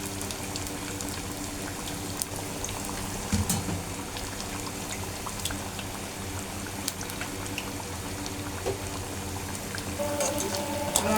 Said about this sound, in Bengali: আমার বেগুনের চপগুলো ভাজা হয়ে গেছে।